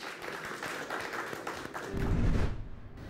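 Audience at a farmers' day stage program clapping, a steady wash of applause that swells louder near the end.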